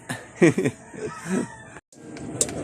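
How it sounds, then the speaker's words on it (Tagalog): Chickens cluck close by in short, irregular bursts, one call rising higher, with brief rustling between them. "Nagpapasubo mga manok."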